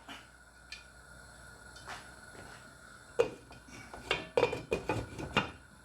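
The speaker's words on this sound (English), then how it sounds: "Put the lid on." Metal lid set onto a pan of chicken wings simmering in a Coca-Cola glaze, giving a cluster of close, sharp clanks and clatters after a quieter stretch of faint kitchen knocks.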